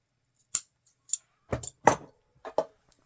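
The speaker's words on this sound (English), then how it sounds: "So just go ahead and snip off your end." Scissors snip off a yarn end: about six short, crisp metallic snips in an irregular rhythm, close and quiet, with no talking.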